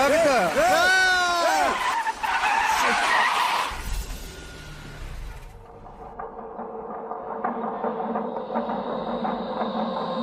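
A car brakes hard and skids to a stop in a movie scene, a loud close tire squeal sliding and wavering for a couple of seconds, then a rumbling crash and settling noise with voices under it.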